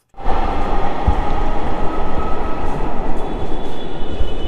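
A metro train pulls away from a platform in Dhaka with a loud, continuous rumble of wheels and motors. A steady rail hum persists, and faint squeals rise near the end. No one talks.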